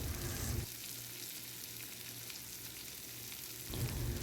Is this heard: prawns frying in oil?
yes